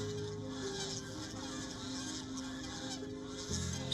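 Geese and other poultry calling at a farm in a Rohingya refugee settlement in Bangladesh, a steady busy chorus of honks and clucks running throughout with a louder burst near the end.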